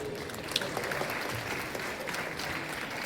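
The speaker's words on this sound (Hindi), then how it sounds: "जोरदार तालियां दोस्तों।" A dense burst of clapping at a college convocation, audience applause that stays even and sustained from start to finish with no voices rising above it.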